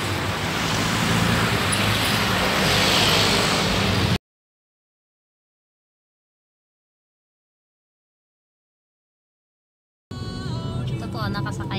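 Road traffic heard from inside a taxi on the way to an airport after dark: a dense, steady roar of passing vehicles for a few seconds, then a long break of silence before the noise returns.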